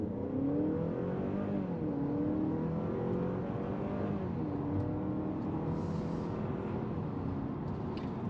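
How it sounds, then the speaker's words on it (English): A 2023 Honda Accord Sport L Hybrid accelerates from inside the cabin, its engine note rising and stepping through steady climbing tones under a constant road rumble, with no talking. "Here's the acceleration."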